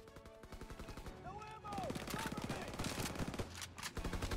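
Rapid gunfire in the video game Call of Duty: WWII, dense bursts of repeated shots with a voice talking over it.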